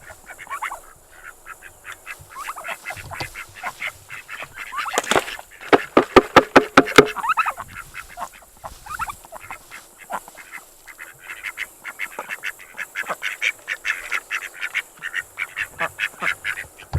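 Hungry farm ducks and geese call in a noisy, overlapping chorus up close. Bursts of quacking and honking rise to a loud peak early on, then keep up in shorter clusters.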